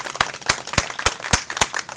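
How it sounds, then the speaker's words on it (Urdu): A church congregation at an Urdu-language sermon claps for an elder: sharp, close claps repeating in a steady, even rhythm about every quarter second, with no talking over them. "بزرگ کے لیے تالی بجائیے."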